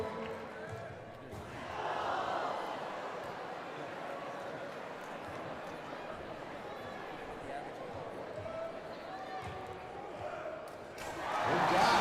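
Crowd cheering and applauding at a high school slam dunk competition during a tournament of champions, a steady broad roar lasting throughout with sneaker squeaks and ball sounds, swelling loudest at the end.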